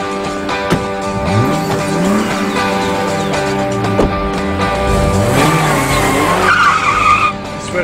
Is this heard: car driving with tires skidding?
yes